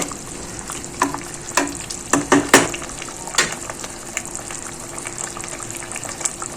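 Mutton biryani cooking in a pot over a slow fire, a soft continuous bubbling sizzle with several sharper crackles and pops clustered early, then settling into a quiet simmer.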